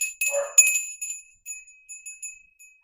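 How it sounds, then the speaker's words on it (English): A small bell rings with bright, tinkling high tones, struck a couple of times and then fading through several softer rings. "We'll ring that bell now so we don't forget about it."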